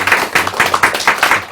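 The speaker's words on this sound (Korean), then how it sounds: "박수로 맞아주세요." A small studio audience on a Korean talk show claps to welcome a guest. The brief claps come close and loud in a quick, fairly even rhythm of separate hand strikes.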